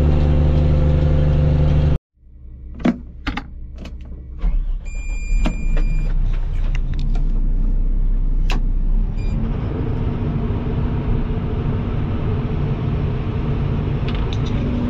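A truck engine rumbles loudly and cuts out abruptly, then gravel crunches and clanks follow before a steady engine drone returns as it rolls along a gravel road.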